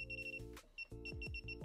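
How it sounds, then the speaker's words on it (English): A Klein Tools ET310 circuit breaker finder emits repeated electronic beeps at a panel, several short tones in a quick rhythm with a brief pause, close and clear with no speech. "it doesn't beep as hard on that side"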